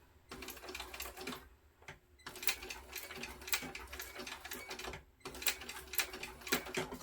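A sewing machine stitches a backpack in quick rattling bursts, pausing twice briefly before starting again, close and moderately quiet.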